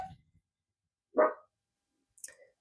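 Excited dogs barking at home as someone arrives, two short sharp barks a second apart with near silence between, close and fairly loud, no talking.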